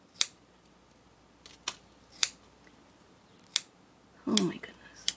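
Scissors snip through a person's own long hair in a home pigtail haircut, about five sharp, close metallic cuts spaced irregularly, with a brief rustle of hair near the end.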